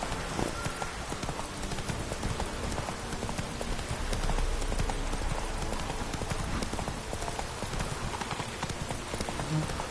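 Roach the horse clip-clops steadily through rain in Witcher 3, a continuous rhythm of hoofbeats over a wet hiss, close and moderately loud with faint background sound.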